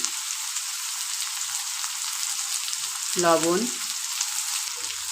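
Small potato pieces fry with turmeric in a pan of onions, giving a steady bright sizzle. A short clatter of stirring cuts in about two-thirds of the way through.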